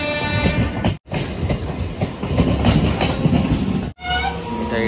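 An express train between Naihati and Bolpur rolls along with a steady rumble and clickety-clack, close and continuous, cut briefly twice, with a voice faintly in the mix.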